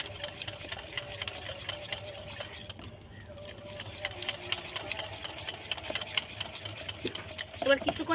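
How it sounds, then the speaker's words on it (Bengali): Cake batter with a little salt and milk being whisked steadily in a bowl, with a continuous busy scraping and beating texture throughout, fairly close and moderately loud. "এবার কিছুক্ষণ ভালো করে ফেটে নেব।"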